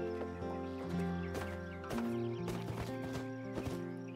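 Horse hooves clip-clop at a steady plodding pace as a wagon moves along in The Oregon Trail video game, layered over sustained musical tones.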